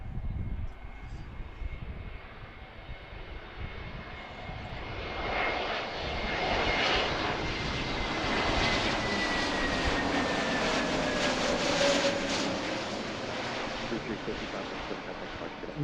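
A Frontier airliner arriving at Philadelphia airport near runway 35/17 roars in a broad, steady engine rush that swells toward the middle and slowly eases, heard fairly close over outdoor ambience, with no talk.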